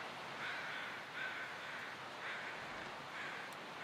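Crows in the snowy Forlorn Muskeg wilderness of the survival game The Long Dark give several faint, distant caws spaced about a second apart over a soft wind-like ambience.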